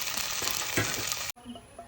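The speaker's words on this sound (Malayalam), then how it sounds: "തിളക്കുന്ന വെള്ളത്തിലിട്ട് സോക്ക് ചെയ്ത സോയാബീൻ റെഡി ആയിട്ടുണ്ട്. അതും പശു നെയ്യിൽ തന്നെ ഒന്ന് വറുത്തെടുക്കാം." Soaked soybeans fry in cow ghee with a loud, dense sizzle and crackle that stops abruptly partway, leaving a quieter room tone with faint clinks.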